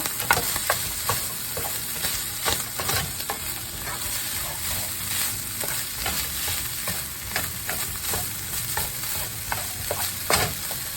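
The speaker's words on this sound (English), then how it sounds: "Now I'm going to stir this together." Egg roll in a bowl mixture stirred in a frying pan, a steady loud sizzle with continuous scraping and shuffling strokes of a utensil, close and without talk.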